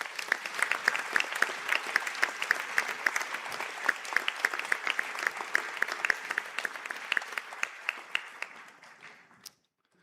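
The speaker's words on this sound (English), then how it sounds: "I now ask the graduates of the Bachelor of Science Honours in Forensic Investigation and Analysis to stand for a round of applause." A graduation conferring ceremony audience applauds the standing forensic science graduates, a dense, lively round of many hands clapping that holds for several seconds, then fades and stops abruptly.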